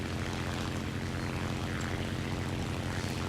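A propeller plane's engine drones steadily in a video game, a continuous close buzzing hum with an even throbbing tone and no pauses, and no voices over it.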